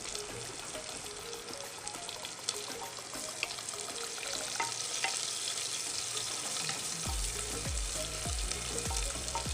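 Onion, green chili, ginger, garlic and curry leaves sizzle in a pan for a spiced dal khichdi, a steady close crackle with stirring scrapes and a few louder pops and bumps toward the end.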